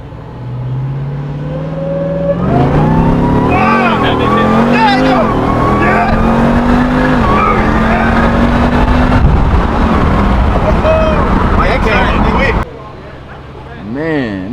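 Jeep Grand Cherokee Trackhawk engine accelerating hard while driving, rising revs climbing through gear shifts in a loud sustained roar heard from inside the car, with people talking over it, then dropping off near the end.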